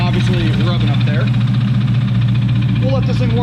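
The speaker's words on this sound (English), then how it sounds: "a lot of this noise you hear is going to be the belt obviously rubbing up there." Idling engine of a 2007 Dodge Charger SRT8 with a swapped 6.1L V8 and a rubbing accessory belt, a steady low drone with chirping squeals from the belt, heard up close alongside brief talk.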